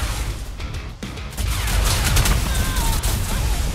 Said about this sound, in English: I did not realize they could shoot me from so close.